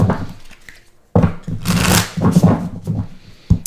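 Close, crisp riffling and sliding of a Divine Feminine Healing Oracle card deck being shuffled, coming in several bursts with short pauses between them and no speech.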